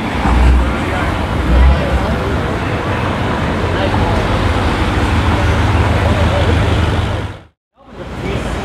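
A car pulls up amid loud, steady roadway traffic rumble, with people talking in the background. The noise cuts out briefly near the end.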